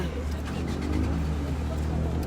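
A car engine tries to start and runs with a steady low rumble, heard close, while someone talks excitedly over it.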